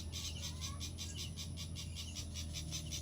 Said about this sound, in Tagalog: naririnig po ninyo ang mga ibon guys